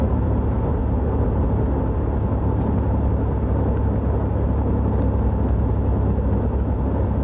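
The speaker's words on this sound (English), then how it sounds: "Oh yeah, hear that engine?" A 1985 Chevrolet Camaro engine runs steadily at a loud, constant rumbling idle, with no voices over it.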